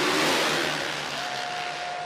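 Motocross bikes roar off the start gate at the MXGP of Indonesia in Samota, Sumbawa, charging downhill together in a dense, loud wash of engine noise that eases slightly as the pack moves away.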